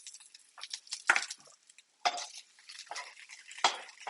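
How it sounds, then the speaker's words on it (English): Arugula being stirred into sautéed mushrooms in a pan off the heat, heard as soft scattered scrapes and clinks of a utensil against the pan, quiet and close, with brief pauses and no talk. "we're going to stir in the arugula"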